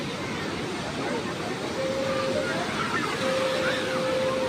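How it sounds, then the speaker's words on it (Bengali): Rough, churning waves of the Bay of Bengal at Puri beach make a loud, continuous roar and wash, with crowd babble mixed into the surf and a faint thin tone drifting through. "সমুদ্রের একদম উত্তাল ঢেউ"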